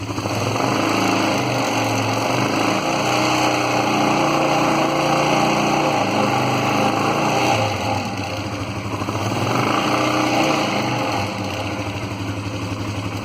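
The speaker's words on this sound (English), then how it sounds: "Put her into all-wheel drive, we'll rev her up." A 2007 Polaris Sportsman ATV engine in all-wheel drive revs steadily for the whole stretch, loud and close, rising a little around the middle and again toward the end.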